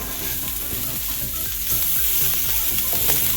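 Ginger and spices frying in a pan for roasted aloo gobi give off a continuous close sizzle, with repeated scraping and stirring strokes across the bottom of the pan and no voices.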